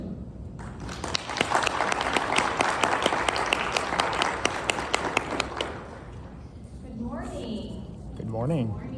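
An audience bursts into applause to welcome a speaker, loud sustained clapping from many hands in a room that fades after several seconds, followed by a voice speaking briefly at the end.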